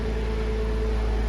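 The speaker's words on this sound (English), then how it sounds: "hopefully you can hear me over the noise of the engine" A Porsche 986 Boxster engine runs steadily at idle, a loud, constant mechanical drone with low hum and a fan-like whir, close by and uninterrupted, with no talking.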